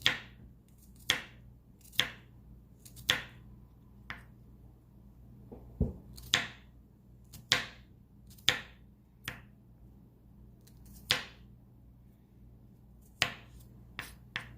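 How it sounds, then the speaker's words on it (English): A knife slicing garlic thinly on a cutting board, crisp separate taps about once a second with a few short pauses, close and clear over a low steady hum. "So I'm just gonna slice the garlic really thin."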